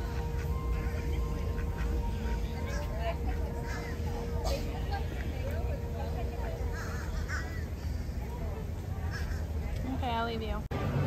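A duck at a Disney park quacks in several bursts amid a busy outdoor hubbub of crowd chatter and people talking nearby.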